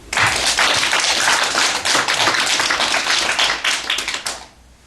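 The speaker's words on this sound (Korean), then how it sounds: "하나님께 영광의 박수." A church congregation clapping together at an early-morning service, dense rapid applause, loud and close, holding steady for several seconds before fading out at the end.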